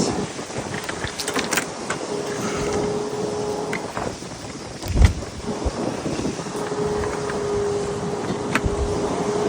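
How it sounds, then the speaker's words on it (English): Steady, heavy wind roar buffets the microphone outdoors beside a Mercedes-Benz E-Class 220 CDI, with a sharper gust around the middle and faint rattling underneath. "It's very windy."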